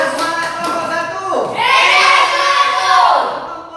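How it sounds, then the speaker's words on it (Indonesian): A class group in a coding lesson bursts into cheering and clapping: a few voices first, then a loud, excited group shout with applause that swells for a couple of seconds and fades. "tepuk tangan untuk kita semua"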